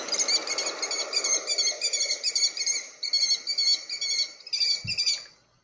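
A kestrel calling, a busy run of high, rapid bird chirps and shrill notes repeating in bursts for several seconds at close range, with no talk over it.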